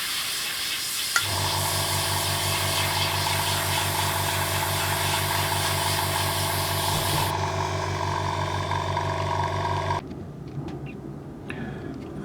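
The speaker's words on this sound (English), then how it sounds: "it's still spraying absolutely fantastic out of the airbrush there on the paper" An Iwata Revolution HP-BR airbrush sprays paint onto paper with a steady, close, loud hiss carrying a hum, then the hiss cuts off and quieter handling noises follow.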